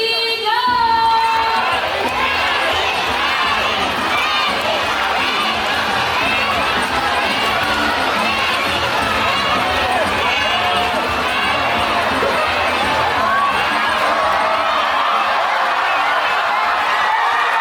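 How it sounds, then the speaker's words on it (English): A loud, sustained crowd of children and adults cheers and shouts continuously for a performing bird named Corky at an outdoor bird show at Jurong Bird Park, with a few voices rising above the roar throughout. "Alright, now Corky supporters, come on guys, you have to cheer louder."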